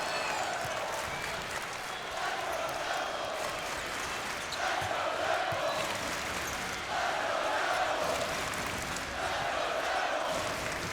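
A basketball crowd at a college men's game between Temple and #8 SMU in Philadelphia cheers and roars in steady swelling waves, distant and reverberant, with faint commentary voices underneath.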